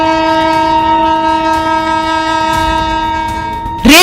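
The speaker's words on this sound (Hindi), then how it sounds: "रेलवे ट्रैक पर शक्तिपुंज एक्सप्रेस पूरी रफ्तार से दौड़ी चली आ रही है, बार बार हॉर्न बजा रही है" The Shaktipunj Express, a passenger train, rushes in at full speed along a railway track, its loud horn blaring steadily throughout while the roar of the wheels builds under it, with a sharp burst of rail noise at the very end.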